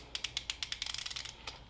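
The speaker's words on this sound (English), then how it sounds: "go ahead and tighten down all 3 of these clamps" A ratchet tool clicks rapidly while tightening the cold air intake clamp screws on a 2021 Dodge, a close, quick run of sharp mechanical clicks with a brief pause before a final click.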